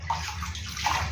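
A child dips into bath water in a home bathroom, making a brief slosh and splash that is close and fairly soft.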